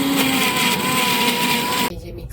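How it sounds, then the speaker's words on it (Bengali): A mixer grinder whirs steadily at high speed, pureeing peas, green chilli, ginger, salt and sugar, loud and constant before cutting off abruptly near the end. "এবার এটাকে মিক্সিতে পেস্ট করব"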